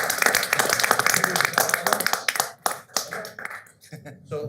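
Audience at a regular city council meeting clapping for a group of young women, a burst of fairly close, uneven handclaps that thins into scattered claps and stops, with voices mixed in.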